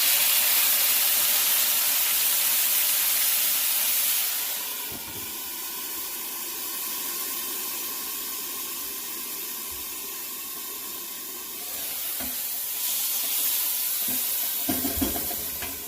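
Water poured into a hot pot of Trini-style curry chicken makes a steady steaming hiss and sizzle that fills the pot, easing slightly midway and then swelling again, with faint clinks near the end.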